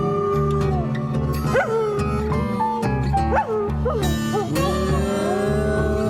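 Dog barks and yips ring out over a steady music bed, several short sharp calls scattered through the stretch, with the dog outside while someone is in the kitchen.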